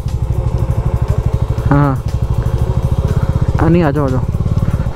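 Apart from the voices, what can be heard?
Bajaj Dominar 400 motorcycle riding uphill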